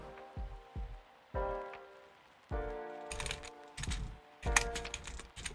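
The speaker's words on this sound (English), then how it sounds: "Sorry if you can hear my clicking." Computer mouse and keyboard clicks, close and fairly loud, come in short isolated bursts and quick clustered runs with quiet gaps between them.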